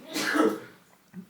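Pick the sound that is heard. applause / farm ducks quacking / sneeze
sneeze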